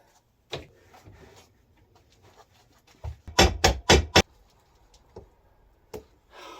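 A screwdriver pries at an aluminum window channel on a 1949 vintage camper. Sparse metallic clicks and taps lead to a short run of sharp, rapid scraping bursts, then more isolated clicks, all close and without speech.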